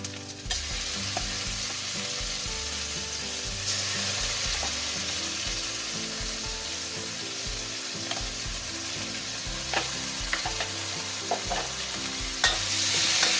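Minced pork stir-fried for a Thai pork and stink bean dish: a steady close sizzle of frying with repeated scrapes and clatters of a spatula against the pan, no talk.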